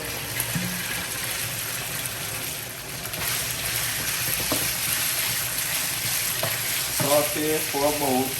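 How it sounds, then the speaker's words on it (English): Beef sizzling in a hot pan for beef and broccoli, a loud, steady frying hiss with occasional stirring scrapes and clatter from a spatula, no voices. "Now I'm gonna go ahead and add my beef."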